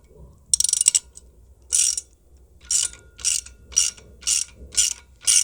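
Bolt and locking nut being tightened by hand on an Outfitr EZ Fold platform e-bike rack: a quick burst of clicks, then a steady series of about seven crisp ratcheting strokes in even rhythm, close and fairly quiet.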